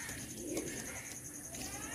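A pair of pigeons, a male and a female of a show breed, coo softly and steadily close by, with a faint, even murmur throughout and no talking.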